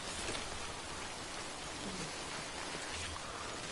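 Steady, dense rainfall in the video game Death Stranding, a continuous hiss of drops pattering on surfaces with no breaks.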